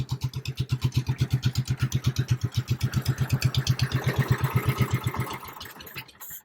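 A 1966 Arctic Cat Panther snowmobile engine running with a loud, fast, steady putter of rapid evenly spaced pulses up close, then cutting off near the end.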